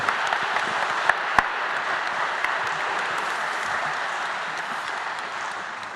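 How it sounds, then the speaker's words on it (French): Sustained applause from a congress audience at an awards ceremony, a dense even wash of many clapping hands with a few sharper claps standing out early on. "Vous pouvez l'applaudir."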